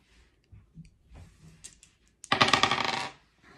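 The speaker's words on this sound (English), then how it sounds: "And now I could just play again and roll my dice again." Dice roll briefly across a tabletop during a children's counting game, giving a short burst of loud rattling clicks after a few faint taps.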